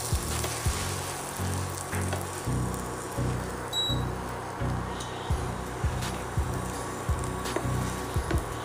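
An Indian pizza base roasts in a hot pan, giving a steady close sizzle with regular soft scraping or pressing taps, continuous and fairly loud, with no voices.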